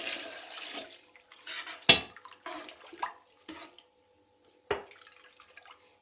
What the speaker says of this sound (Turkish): Bir sırayı Su daha ekliyorum.